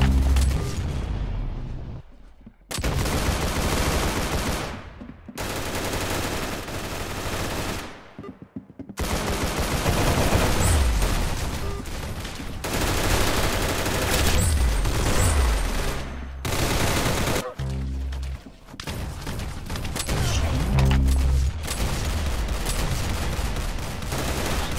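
Dense gunfire from the Roblox shooter Arsenal: loud rapid automatic bursts and fusillades fill the whole stretch, broken by a few brief gaps of near silence between volleys.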